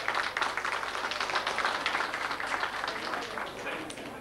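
An audience claps together in a broadcast hall. The applause is a dense, steady patter of many hands, moderately loud, holding for several seconds before easing slightly.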